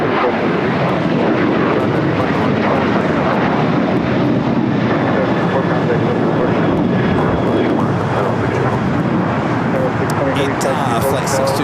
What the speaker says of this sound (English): Flight 620 coming in from Rome, A350-900, touching down here on the south side.